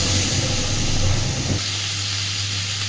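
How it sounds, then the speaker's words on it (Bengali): Chunks of potato, eggplant and green banana fry in hot oil in a pan, a loud steady sizzling hiss that drops suddenly to a quieter simmer halfway through, with no talking. "সুন্দর করে সবজিগুলো এবার একটু ভেজে নেব।"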